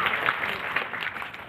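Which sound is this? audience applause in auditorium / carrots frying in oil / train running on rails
audience applause in auditorium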